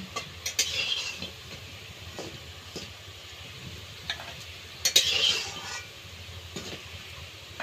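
Fritters of ground red lentil paste and coriander leaves frying in oil, a soft sizzle beneath occasional clinks and scrapes of a utensil, with two brief louder bursts.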